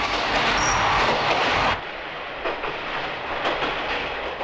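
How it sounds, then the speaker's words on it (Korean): Seoul subway Line 1 train crossing the bridge over the Han River, a steady rumbling roar of rolling carriages that drops to a quieter rattling clatter partway through. "오늘도 한강을 가로지르는 지하철 1호선"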